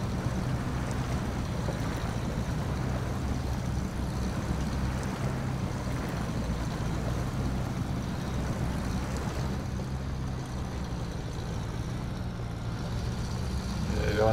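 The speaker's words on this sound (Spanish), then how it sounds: "Estoy acelerando a tope" Khan 38 Marshall truck revving at full throttle through deep mud in SnowRunner, a steady loud low engine roar that holds for the whole stretch with slight dips.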